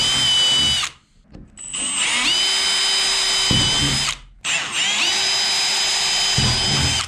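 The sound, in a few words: power drill drilling holes in tractor cab for wiring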